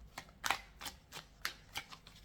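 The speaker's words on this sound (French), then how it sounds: "Pour le choix numéro 3, je le remélange bien." Oracle cards are shuffled by hand in a series of quick, crisp riffling flicks, about six light bursts in an irregular rhythm, close and quiet with no voices.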